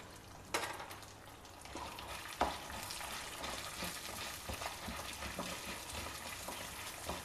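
Dry red chilies, a small piece of ginger and green chilies fry steadily in a pan on low flame for a South Indian breakfast, a continuous close sizzle with a few stirring scrapes and clinks, no voices.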